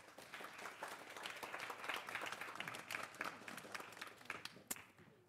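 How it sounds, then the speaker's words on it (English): Lecture audience giving a round of applause after a speaker's introduction, fairly quiet and distant-sounding clapping from a modest crowd that swells and fades unevenly, with a few sharper individual claps near the end. "A big applause to Kristine Walhovd"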